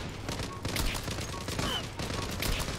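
Dense gunfire in a Çanakkale (Gallipoli) war video game, continuous overlapping rifle and machine-gun shots close by, with someone talking urgently over it.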